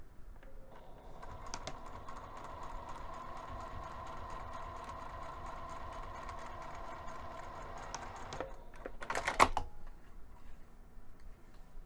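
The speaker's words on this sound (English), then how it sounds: "you want to sew so that you catch both of the credit card slot pieces" A sewing machine stitches cork wallet pieces, catching both credit card slot pieces in a steady rapid mechanical whir that runs for about eight seconds at close range, then stops with a brief louder clatter.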